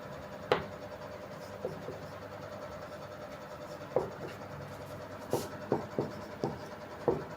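Writing on a board during a chemistry class: scattered light taps and short scratchy strokes of marker or chalk, irregularly spaced and fairly faint, with no talking.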